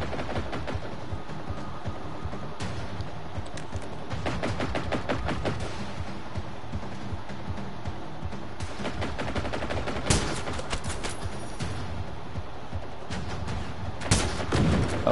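Sustained gunfire in Generation Zero, dense machine-gun bursts and single shots in irregular volleys, loud and close throughout, with no talk.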